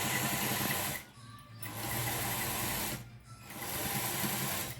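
Sewing machine stitching a churidar garment, a steady close whirring hum in three runs broken by two short pauses, with no talk.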